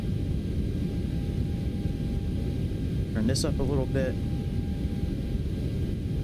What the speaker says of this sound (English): Probably help if I turn the sound of the airplane on.